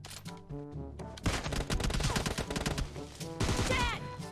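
Kar98 sniper rifle shots and other gunfire ring out in PUBG Mobile Lite, sharp close cracks mixed among bursts of game music and effects, loud and dense throughout.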